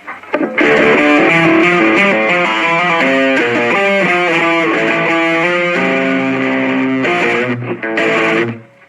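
Distorted electric guitar played through a Blackstar Fly 3 battery-powered mini amp, a fast run of picked notes with effects, loud and steady before briefly cutting out near the end.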